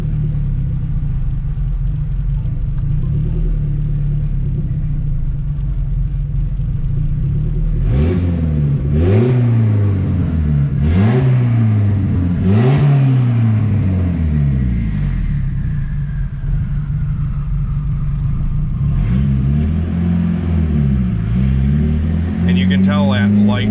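A turbocharged B16A engine in an EK Civic runs steadily with a deep idle rumble, then rises and falls through several short revving blips in a row, easing back between them, with a spoken voice over the engine.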